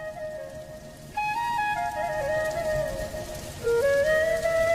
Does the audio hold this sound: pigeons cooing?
no